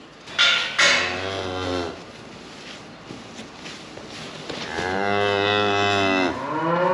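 A cow moos loudly nearby in a farmyard, two long lowing calls separated by quieter shuffling and thuds, the second call drawn out and strong.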